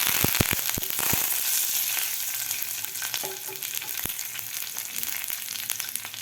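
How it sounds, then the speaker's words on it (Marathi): Five or six curry leaves hit hot oil with mustard seeds and cumin in a tempering, giving sharp pops and spits at first that settle into a steady close sizzle with occasional crackles. "त्यामध्ये घालायचे तर आपल्याला पाच ते सहा कडीपत्त्याची पानं"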